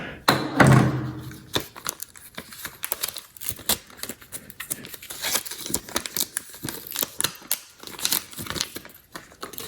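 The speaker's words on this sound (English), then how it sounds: "we'll just cut it open" Scissors cut open the packaging of a new HP iPod, giving a close, busy run of crinkling plastic, sharp snips and small taps that continue unevenly for several seconds with one heavier thud near the start.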